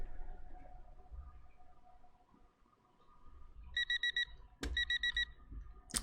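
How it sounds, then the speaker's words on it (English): An alarm clock in a hacking simulator video game rings in two short bursts of rapid electronic beeping, loud and close, over a quiet room tone with a low rumble. "we were standing out of bed when the alarm went off"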